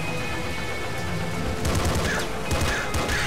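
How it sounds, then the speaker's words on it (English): Rapid bursts of gunfire in the video game Nuclear Throne rattle loud and close, with dense overlapping shots that thicken into sharper volleys partway through. "Die, god, I shot so many bullets at you."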